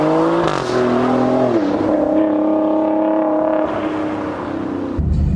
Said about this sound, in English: It's like the rest of the noise coming from the exhaust.